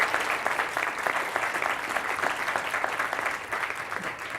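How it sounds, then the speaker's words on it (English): An audience gives a final round of applause to partners at the close of a talk on early brain development, a thick, even wash of clapping that holds steady throughout without voices. "would you all please give all of these partners a last round of applause for their help."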